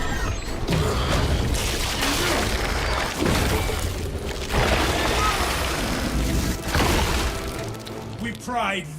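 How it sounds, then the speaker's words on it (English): A crack grenade goes off in Warhammer 40K Space Marine amid loud, busy combat noise, with bursts of blast and clattering debris. A voice talks throughout. "Deploying crack grenade."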